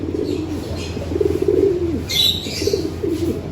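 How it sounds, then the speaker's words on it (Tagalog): Pigeons cooing close by in quarantine cages at a breeder's loft, soft repeated throaty coos over a low steady background, with a faint chirp and a brief wing flutter. "meron akong bagong mga ibon dito mga kalapatids na naka-quarantine"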